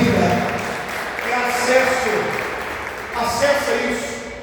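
Worshippers in a church congregation applaud together, a broad wash of clapping that swells midway and again near the end, with a voice talking over it.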